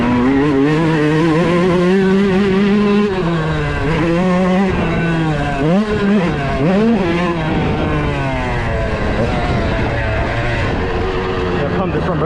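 A Yamaha YZ125 two-stroke dirt bike engine revs up and down through the gears while being ridden, a loud buzzing whine rising and falling in pitch continuously, close and dominant throughout.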